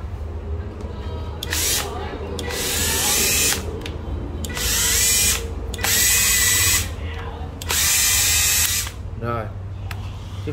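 A 14V cordless drill with a 13 mm chuck whirs in several bursts of a few seconds each, close and loud, with short pauses between runs.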